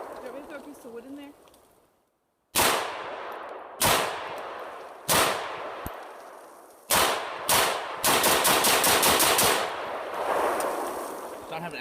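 Sharp, loud gunshots from an AR-15 pistol fired in semi-automatic at an outdoor range, several spaced single shots followed by a quicker string of rapid shots with echoing tails.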